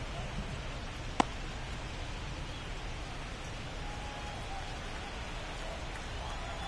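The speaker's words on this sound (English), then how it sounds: "the field's not going to be able to hold up if the rain gets any worse than this" Steady rain falls on the field during a Dodgers vs Pirates baseball game, a constant even hiss throughout with one brief sharp tick near the start and no clear talk.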